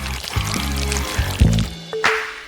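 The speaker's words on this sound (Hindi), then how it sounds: "अब केवल बोतल में शहद डालना बचा है।" Honey glugs and pours into a bottle in a kitchen, thick low bubbling bursts near at hand, followed by a brief bright clink at the end; no one speaks.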